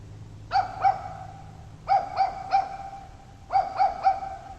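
A dog barks at 3 a.m. in Verona, Italy, in three spaced clusters of two or three sharp yaps each, moderately distant and clear against a quiet night background with no talking.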